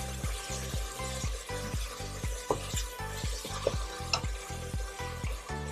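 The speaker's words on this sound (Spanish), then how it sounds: "Añadimos ahora el tomate que tenemos picadito" Chopped tomato fries in a pan for a potato and rib stew, a close sizzle with a rhythmic scraping stir repeating about twice a second throughout.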